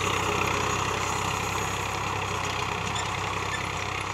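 A Farmtrac 60 tractor engine idles steadily and close by, a continuous low, even rumble with no talk over it.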